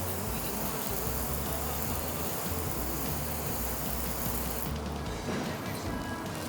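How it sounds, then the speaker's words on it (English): A continuous hiss of water spraying onto a car's surface, dense and steady throughout, thinning slightly near the end. "it might just be because the way we're spraying the water"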